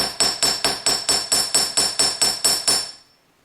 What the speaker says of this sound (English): I just take my hammer and I just hammer a little flat spot